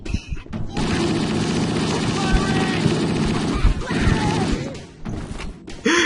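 Grenade blast in Halo: Combat Evolved, set in thick, continuous battle noise with rapid gunfire and a couple of deep thumps, loud and sustained for several seconds before dropping off.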